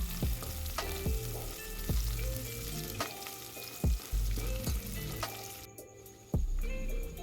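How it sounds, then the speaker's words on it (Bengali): Chopped onion and green chili fry in hot oil in a pan, a steady close sizzle broken by scraping stirs and clanks of a spoon against the pan, with no talking. "ফোড়নটা ভাজা গন্ধ বেরোলে ওর মধ্যে পেঁয়াজ আর লঙ্কা কুচি দিয়ে দিলাম"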